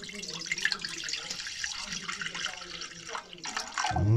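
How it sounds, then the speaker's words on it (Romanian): Water runs from a tap into a pot for making polenta used as fishing bait, a bright splashing stream with drips, rising in pitch as the pot fills near the end. "Punem apă."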